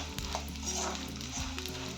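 Oil bubbling and sizzling steadily in a pan as edible gum fries, with a low tonal hum underneath.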